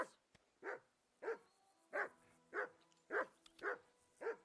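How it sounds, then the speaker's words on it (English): Dog barking in the medieval game Kingdom Come Deliverance 2: eight sharp, evenly spaced barks at close range, each one loud and standing alone, with quiet pauses between them and no talking. "Call off that mutt of yours!"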